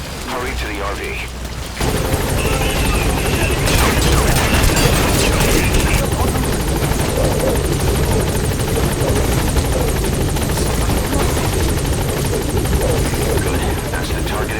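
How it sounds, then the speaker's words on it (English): A military helicopter in the Metal Gear Solid V video game comes in for a pickup, its rotor chopping loud and steady for most of the stretch, with other in-game sounds and some voices mixed in. "The chopper will be arriving any minute."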